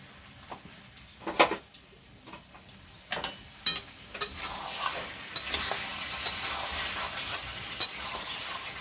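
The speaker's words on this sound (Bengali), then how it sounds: "এই সময় আমি একটু মশলা ধোয়া জলটা দিয়ে দেব।" Spice-rinse water poured into a pan of frying desi chicken for a home-style kosha curry, starting with scattered stirring clicks and ticks, then swelling into a steady, close hiss of sizzling that holds to the end.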